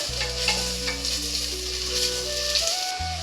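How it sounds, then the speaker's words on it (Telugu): Onion pieces frying in a pan for a chicken and mutton pulao, a close steady sizzle with stirring, over a sustained humming tone with shifting pitches. "ఈ ఉల్లిపాయ ముక్కలు వేగాలండి"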